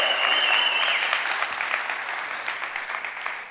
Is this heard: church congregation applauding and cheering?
yes